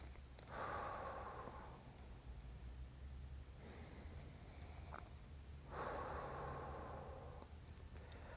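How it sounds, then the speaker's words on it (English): Slow deep breathing during a short meditation exercise: two long, airy inhalations or exhalations separated by a quieter pause, close and fairly soft, with no talking. "Take a few deep breaths in."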